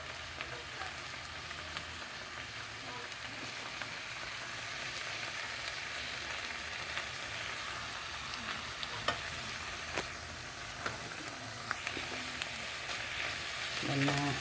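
Beef steak frying in a pan with butter and onion gives a continuous dense sizzle that holds steady for the whole stretch, with occasional small pops and a slight surge near the end.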